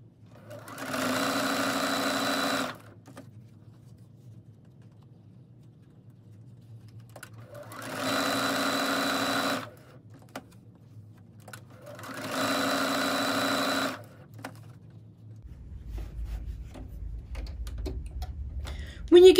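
A sewing machine stitching a small fabric tray, three steady runs of fast mechanical whirring separated by pauses with quiet handling sounds.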